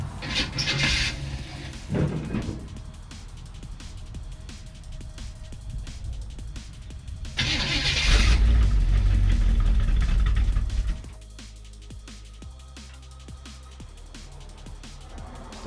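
An old 1964 Chevrolet Impala, abandoned for over twenty years and rusty inside, cranks and catches, its engine rising into a few seconds of loud, rough revving before dropping back to a lumpy idle.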